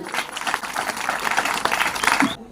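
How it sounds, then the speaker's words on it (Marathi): A crowd claps steadily for about two and a half seconds at a Konkan folk stage performance at the Shri Gangeshwar temple in Kurchumb, dense and close, then cuts off abruptly. "मंडळाच्या सर्व सदस्यांसाठी सुद्धा एकदा जोरदार टाळ्या होते"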